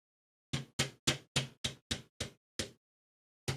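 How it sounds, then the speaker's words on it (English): Ratchet shoulder joint of a Tobot Z transforming toy clicking through its interval stops: eight crisp, close clicks in a quick, even run, then one more after a pause, all alone in silence. "Soft ratchet shoulders all around."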